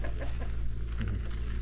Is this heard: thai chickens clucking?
yes